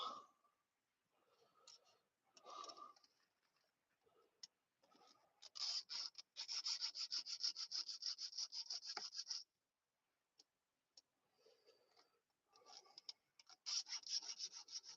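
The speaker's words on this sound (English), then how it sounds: "So I do a little sharpening. Little chainsaw sharpening." Close, rhythmic rasping strokes of a file sharpening a chainsaw chain, coming in bursts with pauses between, quiet and steady.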